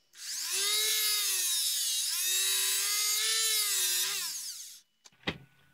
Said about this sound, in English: I'm going to remove a little bit of the MOSFET drain right here with the Dremel